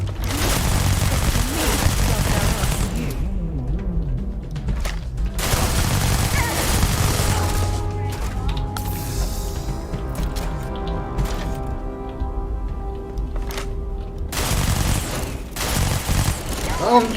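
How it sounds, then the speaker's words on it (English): Gunfire in the Starfield video game, rapid bursts of loud, close shots in several volleys separated by brief pauses, with a voice speaking now and then. "I'm shooting a dead body."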